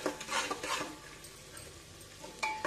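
Spices and dry mango powder being stirred and fried in a pan for a banda vegetable curry with mustard, giving soft scraping strokes over a low sizzle, with quieter gaps between strokes.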